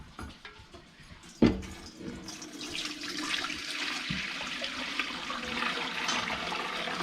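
Chicken broth is poured from a pot through a colander into another pot, starting with a clunk and then a soft, steady rush and trickle of liquid that stays fairly quiet throughout.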